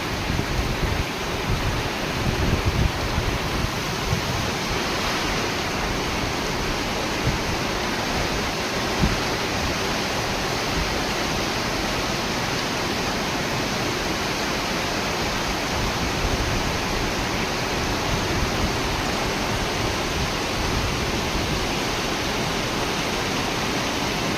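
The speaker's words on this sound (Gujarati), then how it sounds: "મિત્રો ઉપરતા જુઓ તમે વરસાદ" Steady, heavy rain comes down in a continuous broadband roar, close and unbroken throughout with no voices.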